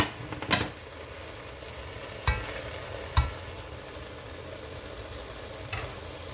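Smoked fish frying in a pan with matembele, a quiet steady sizzle broken by a few sharp clacks of a utensil against the pan.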